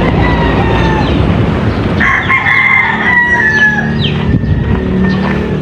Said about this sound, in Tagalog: May mga alagang, ibang alagang manok ni Tito Bitoy.